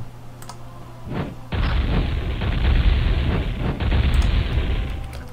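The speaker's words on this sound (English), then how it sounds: "Cannon and ballista fire, mostly ballista fire" Cannon and ballista fire in the Warcraft 2 strategy game: a sudden heavy boom at about 1.5 seconds, preceded by a smaller thud, then a sustained loud rumbling roar of ongoing bombardment with scattered impacts, and no talking.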